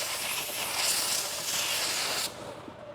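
Spray gun applying base coat paint to a car bumper, a continuous close airy hiss lasting over two seconds that cuts off abruptly and leaves a faint room background.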